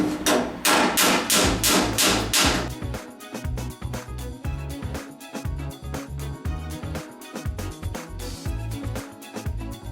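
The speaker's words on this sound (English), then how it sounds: "I'm going to hammer right on top of those welds" Light hammer taps land on welds in the steel panel of a 1969 Chevy pickup during rust repair, a brisk burst of sharp metallic strikes followed by a steady run of close, ringing taps with brief pauses.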